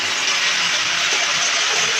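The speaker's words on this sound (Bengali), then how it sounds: "এই মশলাটাকে ভালো করে কষিয়ে নেব।" A spice paste with tomato pieces sizzles steadily in a hot pan, a close, continuous frying hiss with no pauses and no talk.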